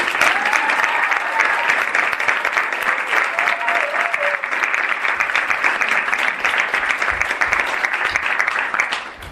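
An audience at a spring MFA graduate reading in Southampton breaks into sustained applause, dense even clapping that carries steadily for about nine seconds with a few voices mixed in.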